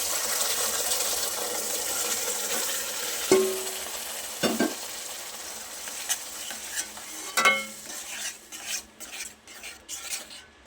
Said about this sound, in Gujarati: હવે જે દૂધ આપણે ગરમ કરીને રાખેલું છે કેસરવાળું એ ઉમેરી દઈશું.